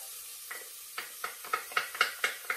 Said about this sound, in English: I'm going to be adding the shallot to that to start to saute it